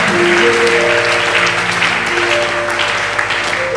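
A church congregation claps together in sustained applause, loud and dense, with some voices and a held musical tone mixed into the clapping.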